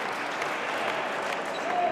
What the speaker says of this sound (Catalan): Bon aplaudiment.